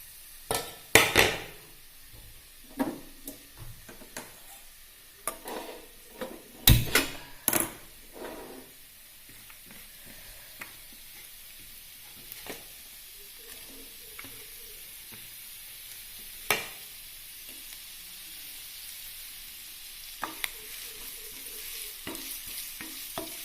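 Onions and green chillies frying in coconut oil for cabbage koottu, a soft low sizzle broken by sharp, irregular clacks of a spoon stirring against the pan, with quiet gaps between bursts.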